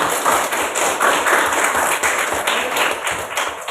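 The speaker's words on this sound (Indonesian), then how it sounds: "sekarang beri tepuk tangan dulu untuk semuanya" A classroom of students claps together in a dense, steady burst of applause, loud and close, sustained for a few seconds without talk.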